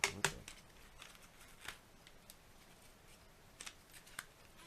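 Plastic disc case being handled quietly, with a few crisp clicks and snaps near the start, then sparse light taps and rustles spread across the short stretch, close and faint.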